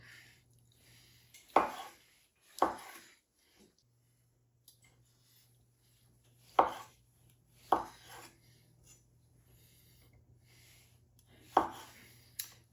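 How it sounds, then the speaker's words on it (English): A kitchen knife cuts salad ingredients in half on a cutting board, with six crisp chops arriving in loose pairs separated by short pauses. The board sits close and there is no talk over the cutting. "So I'm just gonna cut these in half"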